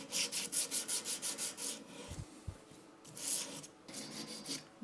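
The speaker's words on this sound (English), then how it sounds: "With the emery cloth, the technique is more like a seesawing." Emery cloth rasps back and forth over a metal workpiece in a seesawing motion, a quick rhythmic run of close scraping strokes, a brief pause, then another burst of strokes with no talking.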